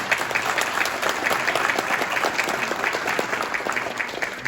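Sustained clapping from the audience at a U.S. Navy officer's promotion ceremony, many hands beating steadily and fairly close, with no voices over it.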